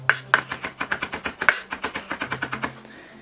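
A knife finely mincing onion on a cutting board, prepared for a potato salad. Fast, even chopping with about twenty crisp, close strikes in quick succession.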